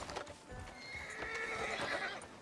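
Horse neighing and whinnying with clip-clopping hooves in the Red Dead Redemption 2 video game, a steady close mix of hoof beats under a long whinny, without talk.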